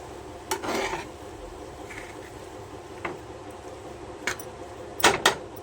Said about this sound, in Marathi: याला आपण थोडंसं हलवून घेऊया